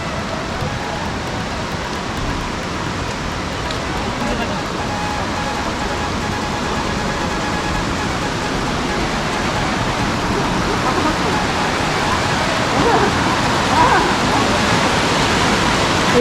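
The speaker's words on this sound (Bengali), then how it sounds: "এই ঝর্ণার জলটা আওয়াজটাই এত সুন্দর লাগে" Waterfall water pours steadily at Ganga Maiya Park in Darjeeling, a loud, unbroken rushing hiss that fills the whole stretch without a break.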